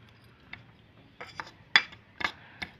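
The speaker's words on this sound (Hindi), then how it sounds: "अब जो है ना इन दोनों चीज़ों को हमने क्या करना है, अच्छे से हमने मिक्स कर लेना है" Rice flour and gram flour are stirred together in a bowl, giving a few faint, scattered clinks and scrapes of a spoon against the bowl's rim with quiet gaps between.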